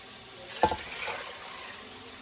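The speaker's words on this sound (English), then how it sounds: "And I'm going to have to put 2 or 3 bowls of water in." Water poured from a bowl into a pot of soaking red kidney beans: one short, fairly faint splash followed by a brief, quieter trickle, heard alone.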